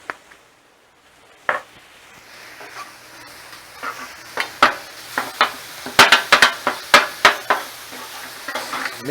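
Fajita meat tossed with salt and cumin in a pan, a run of sharp scraping clacks from the utensil quickening and growing louder over a soft, steady sizzle.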